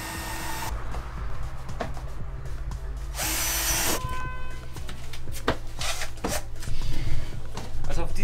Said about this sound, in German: wir bohren jetzt einmal die Löcher hier vor